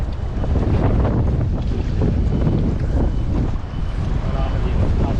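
Strong, steady wind roars across the microphone on a fishing boat at sea, a constant loud buffeting rush with water and surf noise underneath.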